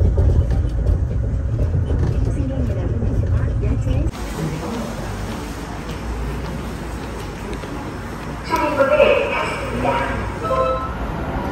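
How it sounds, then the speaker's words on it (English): Riding the monorail in Daegu, South Korea: a steady interior rumble of the moving train with a shift in tone partway through, and people talking over it. "So we just ride the monorail."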